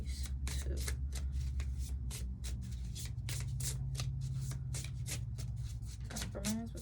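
Tarot cards are shuffled by hand in a quick, steady series of soft riffling flutters, close and fairly quiet, while a person talks over them.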